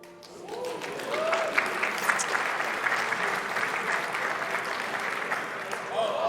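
A crowd applauds steadily at a rudder pedals presentation at a flight simulator expo, dense clapping that swells in after a quiet start and holds at a strong, even level with a few cheers mixed in.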